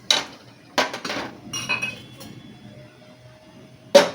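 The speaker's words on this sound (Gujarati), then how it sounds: "તો સૌથી પહેલા એક વાસણ લઈ લેશું." A metal cooking pot set down and handled in a home kitchen while making chutney, a few sharp clinks and clanks spread out with quiet gaps, close and without speech.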